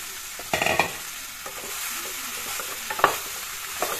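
Chopped ridge gourd fries in a pan for egg curry as a spoon stirs it, giving a soft steady sizzle with a few scraping clacks, close and quiet with no talking.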